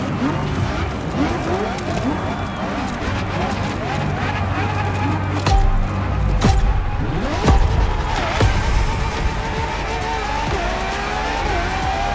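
A Ferrari LaFerrari hybrid supercar from The Crew Motorfest roars steadily with a loud engine drone, tires squealing at times and the pitch rising and falling, while a voice talks over it.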